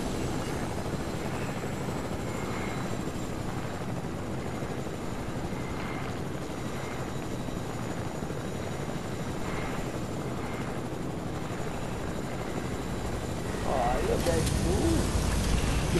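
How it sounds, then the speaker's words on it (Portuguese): A helicopter drones steadily throughout with a constant whirring hum, growing louder near the end, while voices talk over it. "Vai pegar de novo o helicóptero?"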